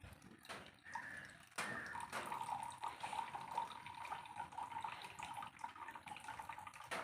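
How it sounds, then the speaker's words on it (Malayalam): Water runs out of a plastic bottle after its cap is opened, a steady thin trickling stream that keeps flowing without a break, faint and close. "അപ്പോൾ ഇതാ വെള്ളം വരുന്നുണ്ട്"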